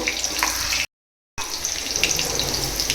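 Nigella seeds and green chilli tempering sizzle steadily in hot oil, a loud continuous hiss broken by a brief moment of silence before resuming.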